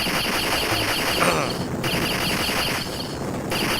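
Rapid, rhythmic bullet fire in the 1991 arcade shooter Blood Bros. rattles loudly and continuously, with chirpy electronic game effects layered over a busy arcade soundtrack.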